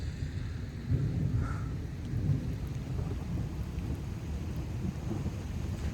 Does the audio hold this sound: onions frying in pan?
no